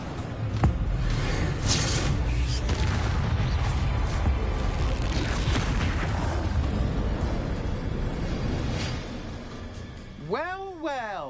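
Booming spell explosions from Confringo casting in the Hogwarts Legacy video game, a dense run of bursts and rumbles under steady combat noise, with a whooshing swirl of magic near the end.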